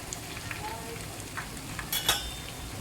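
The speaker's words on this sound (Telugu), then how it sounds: "చికెన్ పీసెస్ కూడా వేసాను, అవి కూడా చక్కగా ఫ్రై అవుతున్నాయి" Chicken leg pieces fry in a pan over a medium flame with a soft, steady sizzle close by. A brief metallic clink near the end rises over the sizzle, and a faint voice is heard.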